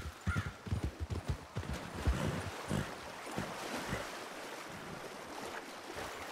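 A horse in the RedM video game swims across a river, its splashing strokes coming in quick rhythmic bursts at first, then fading into softer water and wind noise.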